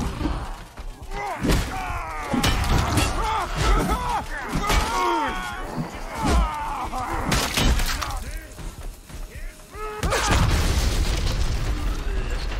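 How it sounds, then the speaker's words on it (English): An explosion in the medieval combat video game Chivalry 2 erupts as several sharp, booming blasts and shattering bursts, mixed with loud clashing battle effects throughout. "I just got shrapneled by the explosion."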